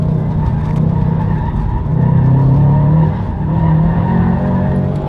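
A 2019 Subaru STI slides with its back end out on an autocross course, its engine droning and rising over sustained tire squeal and skidding, all loud and close.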